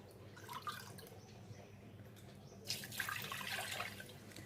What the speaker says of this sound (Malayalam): അപ്പോൾ വെള്ളം ഒഴിച്ചു.